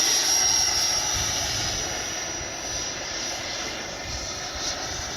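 An FMS 80mm F-86 Skyblazer RC jet flies in to land, its ducted-fan whine a steady, fairly loud rushing roar that holds throughout with slight swells.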